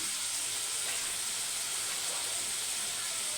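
Onions frying in oil in a pan for egg biryani gravy, a steady close sizzle and hiss that holds evenly throughout with no speech.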